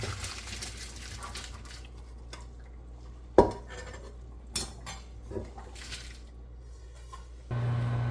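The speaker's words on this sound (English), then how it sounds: "Now we have to strain the pasta." Cooked pasta being strained, with sparse clattering of metal pot and colander, a few sharp knocks and soft wet sloshes over quiet background, ending in a louder steady rush.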